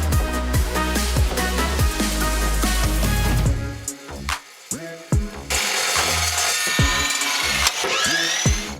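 A saw cuts half-inch steel rebar at a 45-degree angle, giving a loud grinding, rasping stroke that shifts partway through into ringing, whining metallic cutting with short pauses between passes.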